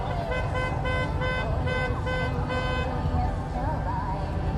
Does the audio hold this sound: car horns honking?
yes